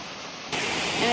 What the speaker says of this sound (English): the waterfalls here were man-made